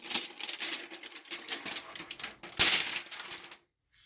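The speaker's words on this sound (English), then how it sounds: "So let's unwrap the plastic here." Plastic wrap being peeled off a new Microsoft Surface Pro 6 during unboxing: quiet, continuous crinkling and rustling with one sharper crackle near the end before it falls silent.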